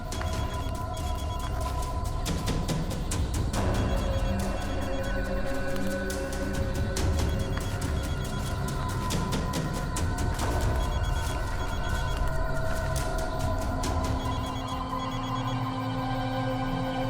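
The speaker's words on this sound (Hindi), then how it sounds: "सर, घंटी की आवाज काफी धीमी आ रही है।" A mobile phone buried under soil rings on and on in a steady repeating electronic pattern, muffled and distant, with no voices over it.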